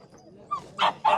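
Shepherd puppies at a dog market give a few quick, high yips and whimpers close by, rising in a short burst after a quiet start.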